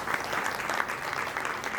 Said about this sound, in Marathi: एक जोरदार टाळ्या होऊन जाऊ दे.